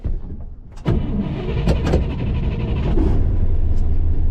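A 1963 Pontiac Catalina engine cranks without starting, giving a loud, close, churning rhythmic grind that kicks in after a brief quiet moment and keeps going unbroken.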